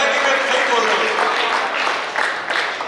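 An audience clapping at a 51st wedding anniversary celebration, a steady wash of applause that holds for about three seconds with some voices mixed in.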